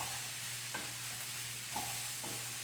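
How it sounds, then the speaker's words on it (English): Spices for a shrimp curry toast in a pan while being stirred, heard as a soft, low sizzle with a few faint scraping strokes of the spoon, quiet and close, without speech. "Let's give that a stir."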